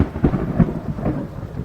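Thunder rumbles through a French-language radio jingle for Sabari FM 97.3, low rolling booms with two sharper cracks over a steady hiss of rain, loud and close.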